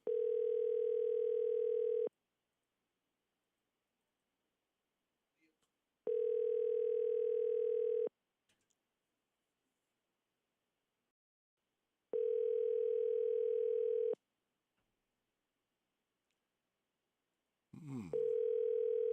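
A telephone ringback tone plays on a call that goes unanswered. Three even two-second rings are separated by roughly four seconds of silence, and a brief unrelated sound follows at the end.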